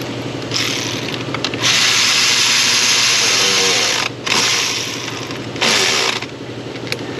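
Close, rapid clicking of a ratchet tightening a bolt on a Toyota Highlander 3.5 V6 engine, in several bursts of steady ratcheting separated by short pauses, with no talking.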